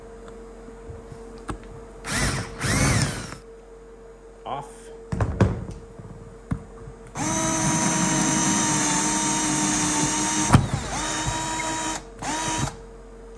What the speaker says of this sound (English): I like to have like two drills, man, for this thing.